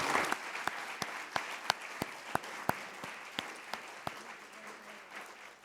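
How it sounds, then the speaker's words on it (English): Audience applause after a history panel talk, fairly faint and distant, with sharp individual claps standing out over a steady wash of clapping that slowly thins toward the end. "Round of applause."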